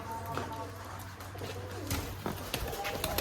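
Rajshahi Giriraj pigeons cooing in a pigeon loft on a farm, soft low coos repeating under a faint room hum, with some rustling and scattered bird sounds.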